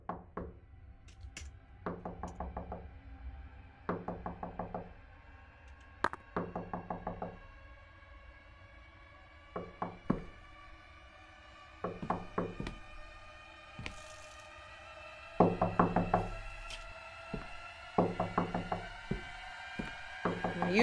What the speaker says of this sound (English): I've been knocking for hours